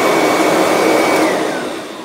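A Kirby G4 vacuum cleaner runs with a loud, steady, close whine and roar that eases off slightly near the end.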